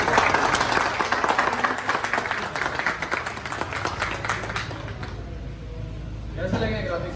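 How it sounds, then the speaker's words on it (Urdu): A crowd applauds at a Honda CG125 2022 motorcycle launch ceremony in a showroom, with dense clapping under a voice over a loudspeaker, fading out toward the end. "ذرا تالیوں سے بتائیں گے"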